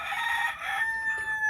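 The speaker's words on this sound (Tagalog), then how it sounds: "Ito naman yung mga manok. Ayan. Mga layer chicken." A rooster among a flock of layer chickens crows once, loud and close, the drawn-out call fading off, with faint farmyard background and no voices.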